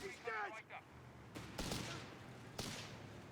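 Sharp bursts of gunfire and tracer fire crack through a Company of Heroes 3 1v1 match between Afrika Korps and British forces, three loud volleys following a caster's brief talk at the start.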